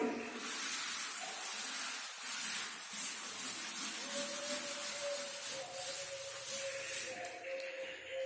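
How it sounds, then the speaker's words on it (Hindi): Steady scratchy rubbing on a writing surface during a class 12 chemistry lesson on chemical kinetics, continuous and fairly close for several seconds, with no talking over it. "ये मैं रब कर रहा हूं यहां पे।"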